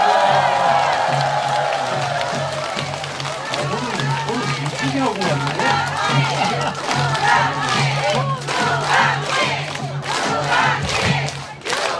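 A crowd at a church prayer-movement gathering roars and cheers for a sustained stretch, many voices shouting together at close range in a loud, unbroken wall of sound.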